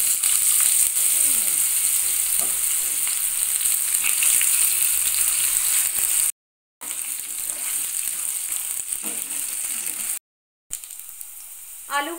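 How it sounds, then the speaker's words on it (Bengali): Potatoes frying in oil with a five-spice tempering, a continuous close sizzle with occasional stirring scrapes, interrupted by two brief cuts. "আগে আলুটাকে একটু লাল করে ভেজে নিতে হবে"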